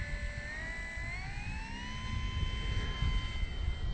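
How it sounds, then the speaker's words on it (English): Warbird propeller windmilling in the wind while landing in a flight game: a steady engine-like drone with tones that slowly rise and settle, alone and fairly constant throughout. "The wind is making the prop windmill for me"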